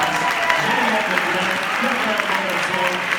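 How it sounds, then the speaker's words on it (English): Steady applause from a large audience fills the room, continuous and loud, with a faint voice underneath. "we better give them a huge round of applause"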